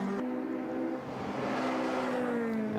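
A BMW race car, number 19, racing on a track in a touring car event at Riga, its engine holding a steady loud drone with shifting pitch, heard close and continuous.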